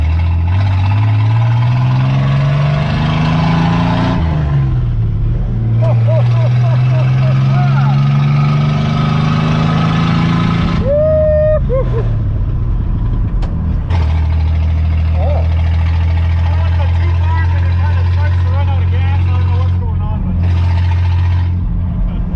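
A 1955 Dodge Mayfair engine roars through repeated revs and load swings during a brake stand attempt, loud and close, rising and falling pitch with brief drops, people talking over it.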